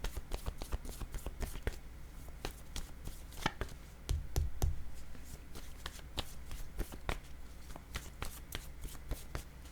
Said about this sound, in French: Je vais déposer une carte maintenant pour ici.